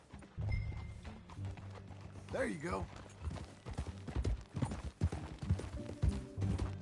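Hooves clip-clop in an irregular walking rhythm in the video game Red Dead Redemption 2, with a horse's whinny partway through and someone speaking briefly over the hoofbeats.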